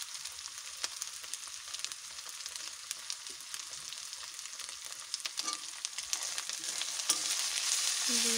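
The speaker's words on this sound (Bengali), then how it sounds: "দিয়ে একটু ভালো করে ভেজে নেব। ক্যাপসিকামগুলো দিয়ে দেবো।" Capsicum frying with chicken masala in a pan, a steady close sizzle and crackle with occasional stirring scrapes, growing a little louder toward the end, with no voices.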